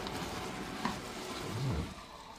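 Cream poured into hot caramel in a pastry kitchen, giving a steady soft hiss that swells briefly into a bubbling rush near the end, fairly quiet and with no talking.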